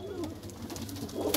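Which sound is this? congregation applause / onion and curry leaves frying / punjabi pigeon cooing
punjabi pigeon cooing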